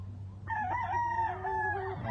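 A Kelso gamecock rooster gives a single clear crow, near and distinct, lasting about a second and a half over a low background hum.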